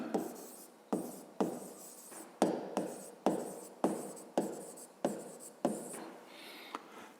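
A pen scratches out a math solution in rhythmic strokes, about a dozen distinct scratchy bursts with short pauses between them, close and fairly quiet, with no voices.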